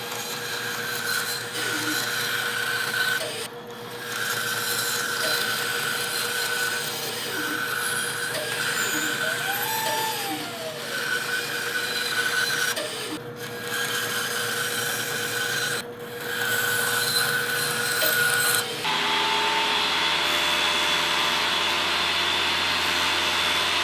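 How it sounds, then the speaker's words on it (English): A bandsaw cuts two stacked wooden circles in a workshop, giving a steady whine and rasp that continues for about twenty seconds with small shifts as the blade works the curve, then changes to a harsher tone. "I'll just go ahead and cut them both out of the bandsaw together"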